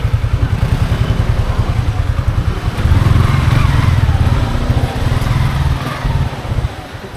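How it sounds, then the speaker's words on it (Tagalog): A motorcycle engine drones and clatters as the bike rides over a rough, difficult road, growing louder partway through with a steady mid-pitched rumble throughout. "Tayo lang dito dumadaan ng motor"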